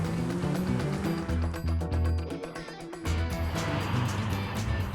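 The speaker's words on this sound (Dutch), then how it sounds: "het geluid van deze auto is super geluid, heerlijk. Beschaafde 8-cilinder." A Porsche 928S with an aluminium V8 runs close by, its deep, smooth engine rumble rising and falling steadily.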